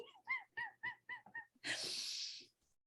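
Ducks in a video game quack in a quick nasal series of six or seven calls. A breathy hiss or rush follows, and there is no talking.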